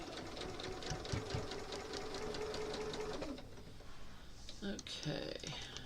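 A sewing machine stitches a quilt block, its rapid mechanical clatter running steadily up close before stopping, then followed by a few softer clicks and handling noises.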